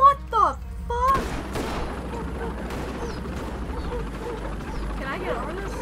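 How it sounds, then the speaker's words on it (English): Gunfire in the Road 96 video game comes as a rapid fusillade of shots and mechanical clatter, loud and close, after an opening stretch of game sounds, with a voice talking over it. "He's actually firing at me!"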